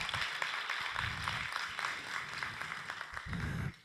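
A room of listeners at a forum applauds a speaker's call for community support: steady, moderately loud clapping spread across the crowd, lasting a few seconds before cutting off.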